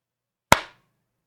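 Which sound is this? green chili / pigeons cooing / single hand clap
single hand clap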